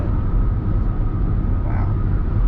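A Kia EV6 First Edition electric car drives at night, giving a steady low cabin rumble of road and tire noise with a soft, constant hum and no voices.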